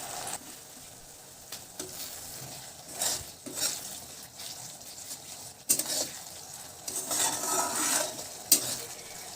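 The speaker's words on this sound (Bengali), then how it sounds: "গ্যাসের আঁচটা একদম লোতে রেখে মশলাটা আমরা কষিয়ে নেব" Spice paste for katla fish kalia being stir-fried over a low gas flame, with a soft steady sizzle, intermittent spatula scrapes and clinks against the pan, and occasional louder stirring bursts, with no voices.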